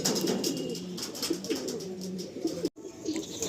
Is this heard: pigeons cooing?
yes